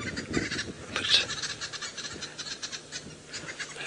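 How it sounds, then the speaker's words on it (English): Birds chatter with alarm calls from a tree on an evening safari drive in the African bush, faint and somewhat distant over a soft background. "some birds chattering in the tree there. Alarm calls."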